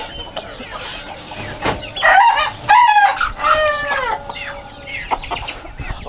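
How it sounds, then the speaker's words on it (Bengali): Silkie chicken clucking and crowing up close, with a few loud, drawn-out crows in the middle between softer clucks and scratchy background noise. "একটা মুরগি নিয়ে আসেন, সিল্কি মুরগি।"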